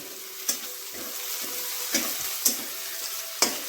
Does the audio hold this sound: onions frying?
yes